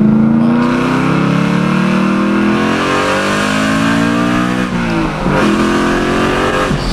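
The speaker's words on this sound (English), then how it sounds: "Damn, these things rev hella high then." Rebuilt car engine revved hard toward about 8,500 RPM, a loud, close, rising whine with stacked climbing harmonics that holds high, dips briefly and climbs again with no talking.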